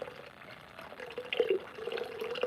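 Water pours from a black clay teapot with a custom-made handle, a soft trickling and splashing stream that swells midway, close and alone with no talking.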